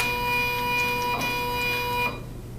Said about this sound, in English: And the printer will calibrate.